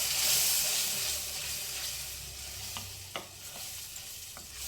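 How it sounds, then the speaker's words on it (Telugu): Tomato puree cooking down in a pan for a tomato egg curry, a soft continuous hiss with a few faint clicks of a spoon, no talk. "ఈ టమాటా ప్యూరీ కొంచెం వేగాలండి."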